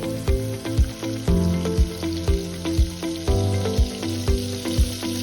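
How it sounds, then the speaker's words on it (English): Oil and butter sizzle hotly in a pan, with a steady crackling fry punctuated by regular knocking thumps of a utensil or pan, loud and close with no talk. "In a pan, add 1 tablespoon of oil and 2 tablespoons of butter"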